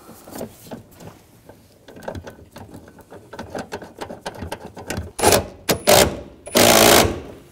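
An impact or power tool whirs in several short bursts while tightening a seat bolt inside a 2007-2013 BMW X5 3.0L, with quieter clicks and handling noises leading up to two loud, close bursts near the end.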